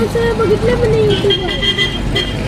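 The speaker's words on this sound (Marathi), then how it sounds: "इथं लय गर्दी चालली म्हणजे लय गर्दी आहे फुल ट्रॅफिक जाम" Heavy traffic jam on the road to a temple, with a car horn tooting steadily close by over the dense rumble of idling vehicles, and voices talking underneath.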